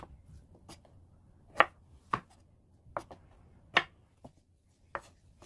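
Several sharp, separate cuts of a knife through crisp fresh fatsia (dureup) shoots, spaced irregularly in a quiet room, with no voices.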